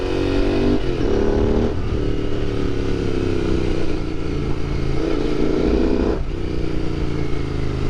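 A Royal Enfield Continental GT 650 twin motorcycle accelerates on a quiet road, its engine rising in pitch through several gear changes with brief dips between them, close and loud, with no talking.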